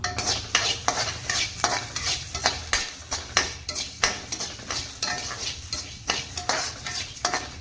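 Millet grains being dry-roasted in a hot pan while a utensil stirs and scrapes them in quick repeated strokes, close up and fairly loud, with a faint sizzle underneath and no voices.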